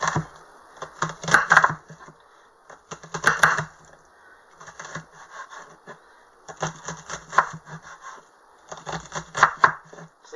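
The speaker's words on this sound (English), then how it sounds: "And now start dicing." A kitchen knife dices onion on a cutting board in rapid bursts of sharp chopping strokes, four clusters separated by brief pauses, close and fairly loud with no talking.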